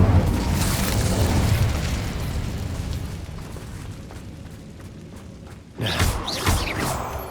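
Incendio fire spell cast in Hogwarts Legacy: a dense roaring burst of flame and rumble that fades to a low hum, followed by a second sharp whooshing flare near the end.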